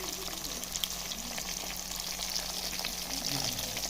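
Semolina-coated food frying in hot oil in a home kitchen, a steady low hiss and crackle held at an even level throughout, with no voices.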